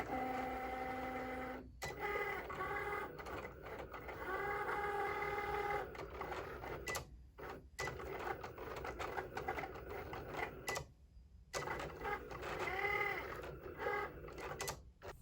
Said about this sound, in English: your Cricut machine will cut out your design